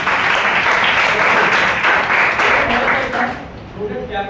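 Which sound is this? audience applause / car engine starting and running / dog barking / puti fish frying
audience applause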